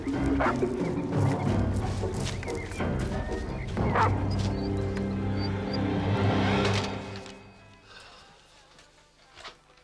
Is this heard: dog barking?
yes